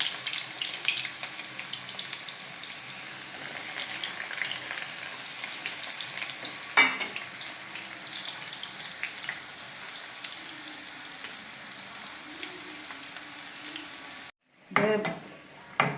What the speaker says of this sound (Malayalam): ഞാൻ വെളിച്ചെണ്ണ ചൂടായിട്ടുണ്ട്. അതിലേക്ക് ചെറിയ ഉള്ളി ഇട്ട് കൊടുക്കാം.